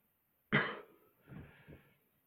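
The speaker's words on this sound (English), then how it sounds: "It's just a common cough, nothing to worry about." A single harsh cough bursts out up close, followed by a couple of softer, throaty coughs or throat-clearing sounds, with silence around them and no speech.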